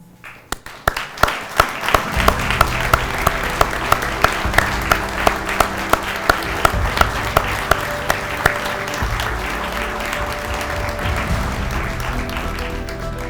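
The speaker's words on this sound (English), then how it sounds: "one last round of applause" Audience at a Chain of Survival event honoring Richland Fire and EMS and cardiac arrest survivors, sustained loud applause building after a few scattered claps and continuing steadily with occasional sharp individual claps and cheers.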